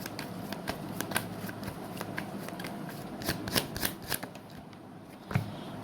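Tarot cards being shuffled in a rhythmic series of crisp riffles and slaps, close and fairly loud, with no talking.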